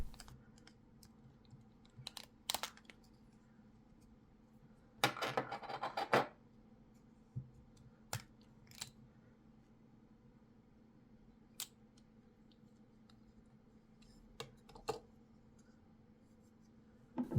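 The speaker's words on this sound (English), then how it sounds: "you need to separate these two plastic parts using the screwdriver or the metal part" A screwdriver prying apart the two plastic halves of an Opel Insignia B car key fob, heard as faint, sparse clicks and scrapes with one brief louder scratching burst against near silence.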